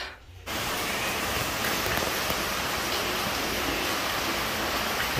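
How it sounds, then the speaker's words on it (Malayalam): Rain falling steadily outside near a church, a dense even hiss of drops on surfaces that starts abruptly after a brief quiet moment and continues without pause. "ഇപ്പൊ മഴ കുറഞ്ഞു"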